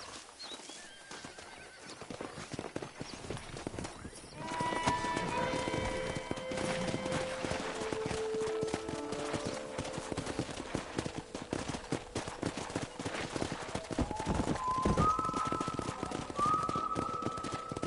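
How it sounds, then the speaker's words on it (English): Wild horses galloping in the Red Dead Redemption 2 video game, with a steady pounding rush of hooves, occasional whinnies, and a whistled tone rising over the herd, fairly faint and far off at first, then fuller. "That ranch hand said there's a pack of wild horses nearby."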